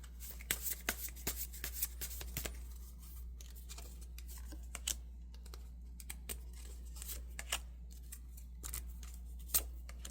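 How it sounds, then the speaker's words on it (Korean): Tarot cards are shuffled and drawn by hand, with quiet crisp riffling, slapping and sliding snaps that come in irregular bursts over a low steady hum, and no talking. "상대방이 어떤 사람인지 한번 카드를 뽑아보도록 할게요"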